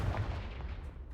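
The Confringo fire spell cast in the video game Hogwarts Legacy: a deep, rumbling explosive blast lasting about a second that fades slightly at the end, with no voices.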